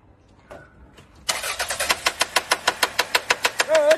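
A car engine being cranked and started, a rapid series of about twenty loud rhythmic starter-motor pulses following a few faint knocks, close by with no talk.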